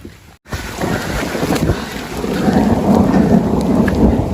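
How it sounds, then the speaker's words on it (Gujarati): Rain falls on a farm after a hailstorm, with a deep thunder rumble and gusting wind buffeting the microphone, the roar building after a brief quiet start. "હા પાછો વરસાદ ચાલુ થઈ ગયો"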